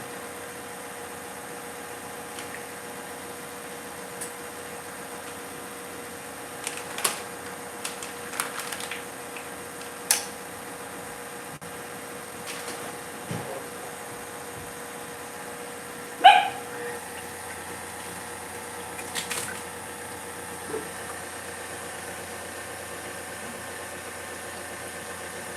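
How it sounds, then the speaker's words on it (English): A stand mixer whips a small batch of egg-white meringue for macarons at low speed, giving a steady, fairly quiet motor hum with a few scattered clicks and knocks over it. "With my mixer, it's just going to take a lot longer with the smaller batch to get it nice and foamy."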